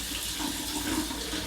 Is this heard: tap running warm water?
yes